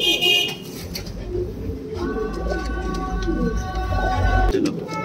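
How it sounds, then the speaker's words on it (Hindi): Chhapdar Deobandi pigeons coo nearby in repeated soft, throaty phrases, with a car horn sounding in the background midway through. "छापदार देवबंदी कबूतर है"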